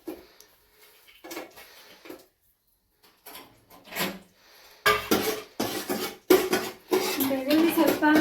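Garlic going into hot oil in a cooking pan while making puliyogare, with clattering pot and utensil sounds and sizzling bursts that grow louder and denser in the second half, set close up in a home kitchen.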